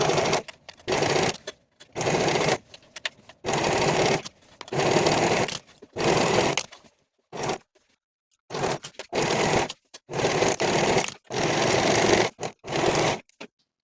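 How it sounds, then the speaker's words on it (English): A sewing machine runs a leggings inseam at a 1/4 inch seam allowance, its steady motor whir close and loud in repeated bursts of about one to two seconds, broken by short pauses and one longer stop. "Then we can start sewing from the bottom of one leg with a 1/4 inch seam allowance"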